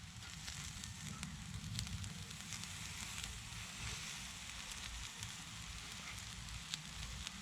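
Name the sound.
lamb kebabs sizzling over fire on Bushbox XL Titanium stove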